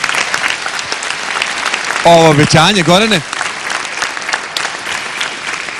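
Loud audience applause at the final of a televised dance competition, a continuous roar of clapping that runs throughout while a host speaks over it briefly in the middle.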